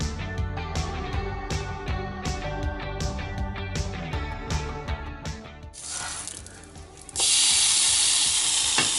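Coconut and banana pancakes frying in a pan, with repeated rhythmic tapping and scraping at first, then a loud steady hiss of sizzling that swells near the end.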